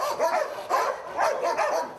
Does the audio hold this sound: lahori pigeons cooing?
no